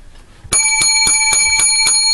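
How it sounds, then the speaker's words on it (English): Bells ring out in a steady, regular series of about seven strikes following a quiet start, loud and close, each stroke sustaining a bright metallic tone with no talk. "Seven bells for our break."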